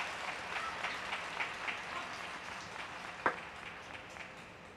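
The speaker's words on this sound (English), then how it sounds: "Look at that roar from the crowd." Crowd applause and cheering at a table tennis match at WTT Bangkok 2023, a steady broad wash of clapping with one sharper accent partway through, with no talk over it.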